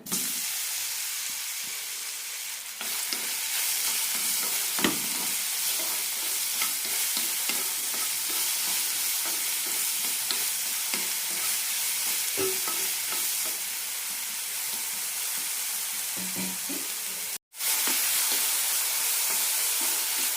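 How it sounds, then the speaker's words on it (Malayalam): Ripe plantain frying in half a teaspoon of ghee in a pan, a continuous close sizzle and hiss with occasional spatula scrapes and taps, briefly cutting out near the end. "പാനിലേക്ക് അര ടീസ്പൂൺ നെയ്യ് ഒഴിച്ചിട്ടുണ്ട് ഇതിലേക്ക് പഴം ഇടാം"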